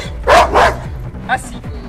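A reactive female Rottweiler barks twice in quick, loud, close succession, followed by a shorter yelp-like bark, with a voice speaking briefly around it.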